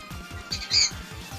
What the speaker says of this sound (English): That bird is so noisy.